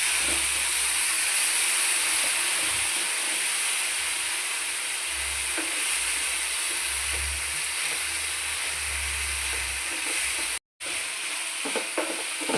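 Ground tomato paste poured into a hot pan brings a loud, continuous steamy hiss and sizzle, broad and unbroken, with a brief cutout near the end followed by light clinks; no voices.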